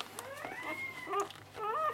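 A newborn Bully Kutta puppy whimpers close by, giving a few thin, wavering high-pitched whines with short gaps between them over a faint low hum.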